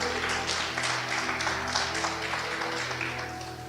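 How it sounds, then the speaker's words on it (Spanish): A church congregation claps at length, a dense, even wash of applause with a steady hum underneath, tapering slightly toward the end. "Denle a Jesús el aplauso"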